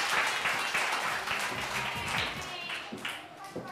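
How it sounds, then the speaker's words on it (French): A theatre audience at a summer stage show applauds, a dense and steady wash of clapping that runs throughout, with a voice faintly audible underneath. "je vous demande d'applaudir chaleureusement"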